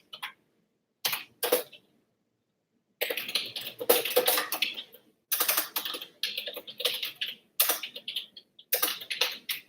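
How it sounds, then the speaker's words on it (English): Bursts of computer keyboard typing while someone enters a recipe, clicking in quick runs separated by short pauses, close and clear with no talking. "Y'all gonna hear a lot of clicking. It's okay though. It's just me typing."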